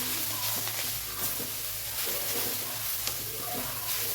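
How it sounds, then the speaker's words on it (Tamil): Spinach greens and grated coconut roast in a pan for a pepper-tomato greens stir-fry, giving a steady sizzle with soft scraping stirs throughout, close and moderately loud. "இதையும் போட்டு இதை வறுத்துக்கலாம்"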